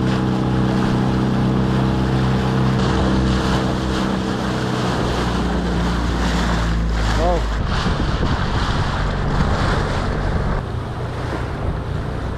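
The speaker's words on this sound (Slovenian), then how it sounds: "To veliki valovi, tako se dvigne." Big ocean swells around a sailing boat off Fatu Hiva, with roaring wind buffeting the microphone, rushing water and a low engine-like drone that drops away partway through.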